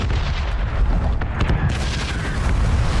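A bomb explodes in the battle royale game PUBG, a loud, deep rumbling boom that rolls on for a few seconds with sharp crackling bursts on top.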